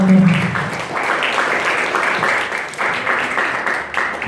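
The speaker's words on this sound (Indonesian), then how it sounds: "Sekali lagi kasih tepuk tangan yang meriah untuk pembicara kita." At a 2018 Islamic law event, an audience claps for the speaker, a short run of moderate applause following a brief voice at the start, with clapping swelling and easing in waves.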